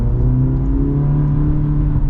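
A 2025 Cadillac CT4-V accelerating, its engine holding a loud, steady low rumble with a rising whirring drone heard from inside the car, no talk over it.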